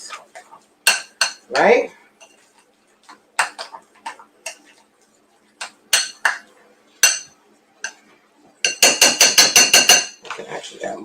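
A utensil stirs cheese into grits in a pot, giving sharp clinks and scrapes in an irregular rhythm that end in a fast run of metallic taps, while a voice speaks briefly.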